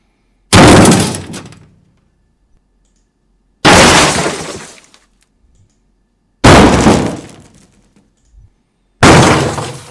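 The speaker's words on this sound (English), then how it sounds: "I tried to do car crash, which is a very normal sound effect" Four separate synthetic car crash impacts, each a loud sudden burst of smashing metal and shattering glass that quickly fades, with short silent gaps between them.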